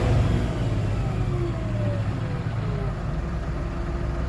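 A diesel truck engine rumbles loudly and steadily as it is throttled back toward idle, a low continuous drone that eases slightly over the seconds.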